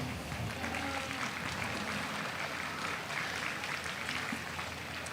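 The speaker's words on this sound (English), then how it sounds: "let's give all these kids a round of applause" Steady, moderately faint applause from a crowd for kids showing market steers in an arena, continuous clapping with no voices.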